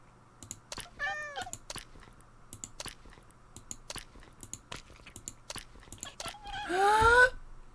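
Two Minecraft cats meow in game, a short meow early on and a louder, longer one near the end, amid steady soft clicks and taps of a keyboard and mouse.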